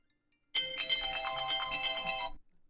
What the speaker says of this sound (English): my phone has been ringing